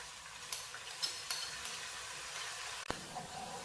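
Tomato, red chili powder, turmeric and salt stirred into hot oil with garlic and ginger, a soft sizzle with light scraping and a few clinks of a spoon against the pan, faint and close, no voices.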